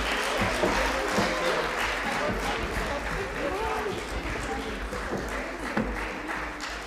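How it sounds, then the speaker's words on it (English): Sustained applause from a crowd at a primary school graduation, a dense wash of clapping that stays steady throughout, with some voices and cheers mixed in. "Another round of applause for them."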